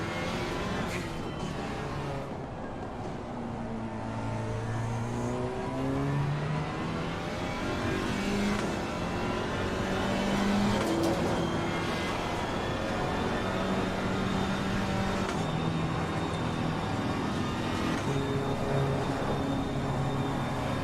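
A GT4 race car on an out lap at Silverstone in a racing sim, engine droning continuously and loudly with rising and falling revs through gear changes, a steady mechanical whine layered on top.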